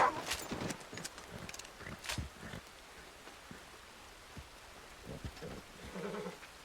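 Horse hooves clip-clopping in the Western game Red Dead Redemption 2, a scattered run of light knocks over rainy ambient noise, fairly quiet, with no talk.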